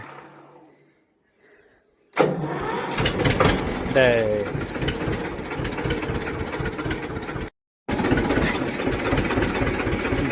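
After a quiet moment, a Scout generator engine on a dairy farm cranks on its self-starter and catches, then settles into a steady, loud rumbling idle, cut briefly once before continuing; a voice speaks over it.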